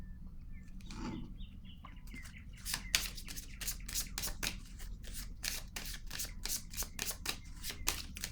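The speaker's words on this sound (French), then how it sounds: "Je vais piger une autre carte." A tarot deck being shuffled, with a soft rustle first and then a quick, steady run of crisp card flicks, close up and clear with no talking.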